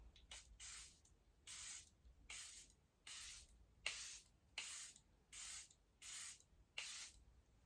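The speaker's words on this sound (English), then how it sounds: "now I'm going to use the Charlotte Tilbury setting spray, which is an airbrush flawless setting spray" Nine quick, evenly spaced spritzes from a Charlotte Tilbury Airbrush Flawless setting spray pump bottle, soft and close, each a short hiss separated by brief clicks and pauses.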